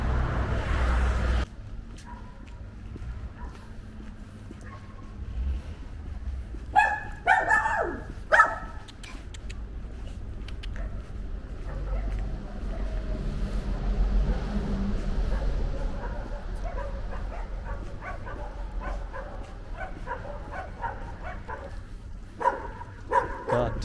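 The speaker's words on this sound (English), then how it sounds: "So many dogs." Many dogs bark along a city street in Reșița, Romania, in scattered bursts through the middle and toward the end over steady low traffic rumble, with a short loud thump at the start.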